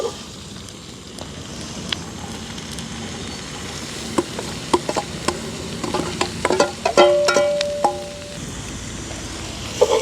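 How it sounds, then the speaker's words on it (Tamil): Onion flowers mixed for a roti filling are stirred in a pan over a village fire, with a low frying hiss and scattered sharp scrapes and clicks that grow busier toward the end. "இப்போ வந்து நல்ல வடிவாக கலந்து விடுவோம் வெங்காயப்பூ சேர்ந்து வதங்க எடுக்கும் எங்களுக்கு"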